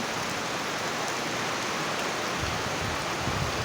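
Steady rain falling, a dense, even hiss of drops on surfaces, continuous and moderately loud with no voices.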